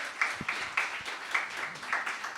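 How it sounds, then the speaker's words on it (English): Light applause from an event audience welcoming a host, a small scattering of hands with distinct individual claps, fairly quiet and brief. "let's give him a round of applause"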